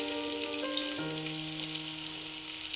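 Fish-fat fritters frying in hot oil give a steady, close sizzle with a bright crackling hiss throughout and no talking over it.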